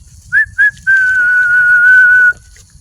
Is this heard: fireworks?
no